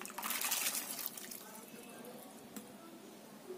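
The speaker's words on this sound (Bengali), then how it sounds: "মশলাটা আমার কষানো হয়ে গেছে। এতে দিয়ে দেব জল।" Water is poured into cooked spice masala in a pan for chana dal, a brief close splash and gush that fades into quieter bubbling and sizzling.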